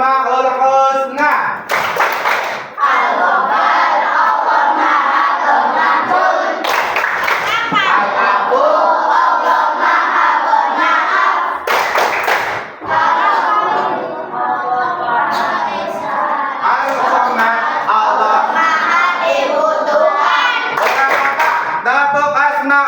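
A class of schoolchildren claps in rhythm while chanting the Asmaul Husna together, loud group voices over sharp hand claps. Short bursts of clapping come every few seconds through the long chant.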